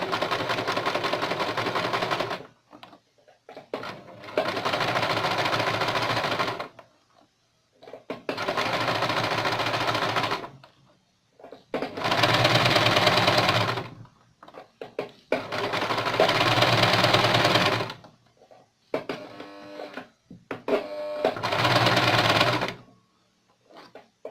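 A sewing machine stitches a seam on a stenciled fabric bag, running in six close, loud bursts of rapid mechanical whirring separated by short pauses, with no voices.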